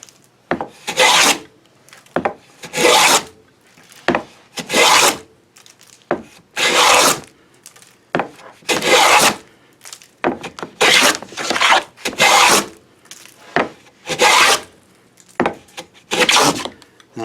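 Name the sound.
replica 18th-century hand plane slicing across wood panel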